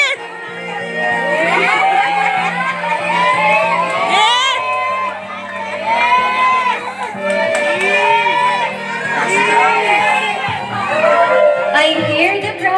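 A crowd cheers and shouts at a birthday party, with children's voices in the mix, in a steady, loud roar of overlapping excited voices that keeps going from start to finish, and a low hum runs underneath.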